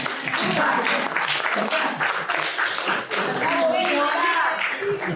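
An audience applauds with dense, continuous clapping that holds for several seconds at a talk on architecture, memory and politics, with a few voices mixed in.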